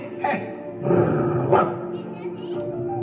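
A few sharp dog barks and yelps in quick succession in a school puppet play about dogs fighting, close by, with a voice speaking at times.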